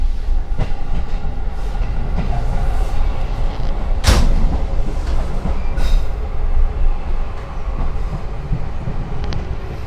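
An economy-class passenger train rumbles past close by with a steady heavy roar and clattering wheels, a sharp bang or clank near the middle, no voices.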